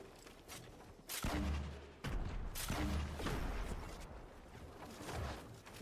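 Gunfire in a battle royale video game, with loud bursts and rapid volleys, near and harsh, separated by brief gaps.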